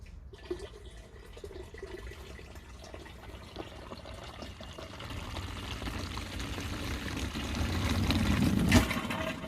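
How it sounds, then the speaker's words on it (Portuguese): Tap water running into a hydroponic garden system, a steady broadband pour that grows gradually louder and fuller over the stretch as the container fills, with no talking. "deixa eu ligar lá a torneira para poder colocar a água para vocês"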